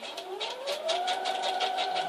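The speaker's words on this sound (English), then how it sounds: "we're going to take her over to the sewing machine and we're going to give her a sew all the way around" A sewing machine stitches around the edge of a dog food bag with a steady, fast whirring hum and quick rhythmic needle pulses. It is fairly quiet and runs unbroken, with no talking.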